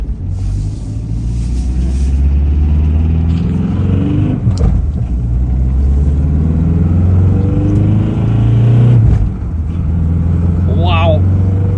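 A Nissan 240SX rumbles loudly from inside the cabin on a first drive, its engine droning and rising with revs while the driver talks over it almost the whole time.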